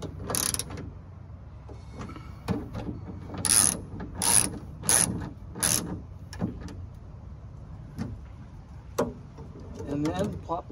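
Hand ratchet snugging bolts on the rear hatch lock of a 2012 Kia Sedona, several short clicking bursts in sequence with pauses, close and moderately loud, with some talking.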